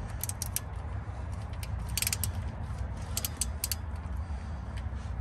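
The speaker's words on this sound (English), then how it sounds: "then we're just gonna give it like a quarter turn with the ratchet" A ratchet snugs the oil drain plug on a 2011-2016 Chevy Cruze, giving a close run of quick light clicks over a low steady hum.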